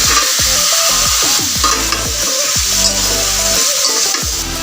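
Teasel gourd and potatoes stirred in spice masala in a pan: a loud, close sizzle with repeated scraping strokes of a spatula against the pan, several quick stirs in a row.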